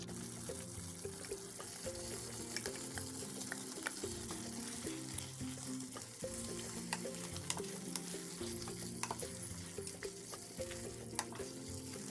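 Dried anchovies frying in a pan, a continuous crackling sizzle with scattered pops and occasional stirring, moderately faint and steady throughout, no voices present.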